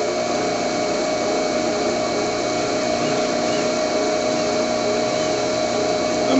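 A thickness sander fitted with 160 grit sandpaper runs as a guitar side is fed through, giving a loud, steady machine drone and hum that holds level throughout with no talk.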